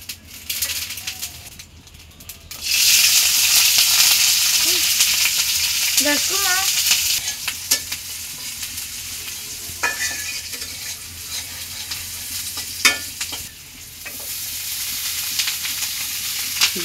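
Cooked rice poured into a hot pan for fried rice and stirred, a loud steady sizzle rising suddenly and holding, with scraping spoon strokes and clinks over a low background hum and no talk.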